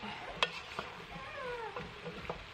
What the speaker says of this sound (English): Alright, now I'm going to add my garlic.